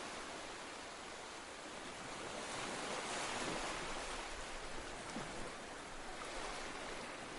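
Steady ocean surf washes onto a beach, a continuous broadband rush that swells and recedes gently, heard alone with no voices.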